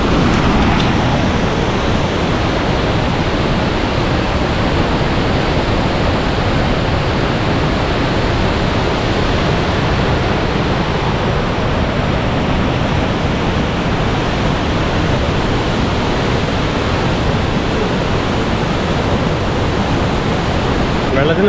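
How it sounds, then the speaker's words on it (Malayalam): At Mekedatu, water rushes powerfully between rocks in a loud, unbroken roar that fills the whole stretch without letting up. "വെള്ളത്തിന് നല്ല ശക്തിയിൽ ഒഴുകുന്ന കേട്ടോ"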